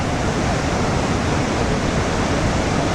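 Hukou Waterfall on the Yellow River, seen from upstream of the falls, gives a loud, unbroken roar of rushing water with no voices over it.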